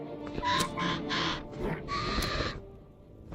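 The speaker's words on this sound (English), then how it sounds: "The Moa bird's just attacking him." A Moa bird attacks in the fantasy role-playing game Guild Wars Reforged, giving a few harsh squawking bursts with a gap between them, fairly close and with no talk over them.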